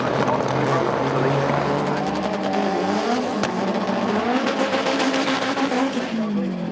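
A front-wheel-drive drag racing car at a street car drag series event cruises across the finish line, giving a continuous engine drone whose pitch slowly rises, with faint commentary in the background.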